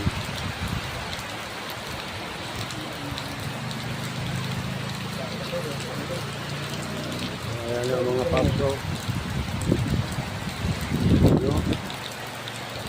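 Heavy typhoon rain roars steadily throughout while someone speaks briefly over it near the end.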